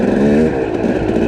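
KTM 300 dirt bike accelerating hard in first gear, a loud close two-stroke engine revving with rising pitch in one short, continuous burst.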